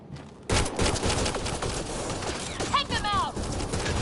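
Rapid bursts of gunfire in a Mass Effect Andromeda firefight, loud and continuous after a quiet opening, with shouting voices and a few chirping electronic weapon effects mixed in.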